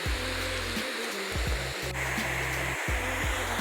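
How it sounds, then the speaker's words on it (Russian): Steady rushing water from a stream channelled over a railway tunnel on the Circum-Baikal railway, a continuous broadband roar that stays loud and even throughout with no voices. "ручей тут у них тек, они его так провели сверху туннеля"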